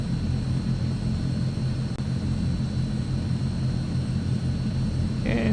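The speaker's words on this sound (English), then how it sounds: "Both engines are stabilizing." Twin turboprop engines of a Transall C160 military transport settle into a steady, loud droning hum inside a flight simulator game, holding constant throughout with no talk over it.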